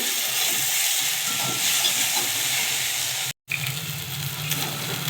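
Softened okra fries in a pan with salt added, giving a steady sizzling hiss with light stirring scrapes, broken by a brief total dropout before the frying resumes slightly fuller.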